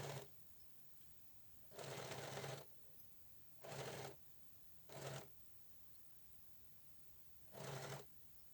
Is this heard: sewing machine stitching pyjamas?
yes